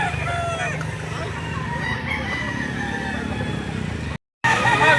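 Roosters crow repeatedly at a busy Saturday-morning chicken market in Lipa City, Batangas, with fowl clucking and crowding close by over steady market bustle, and a brief dropout near the end.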